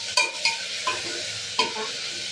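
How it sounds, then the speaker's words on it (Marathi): Rice, onion and tomato sizzle in hot tempering oil as a spatula stirs and scrapes the pan in several distinct strokes over a steady frying hiss. "भात फोडणीला टाकून चांगली घेते"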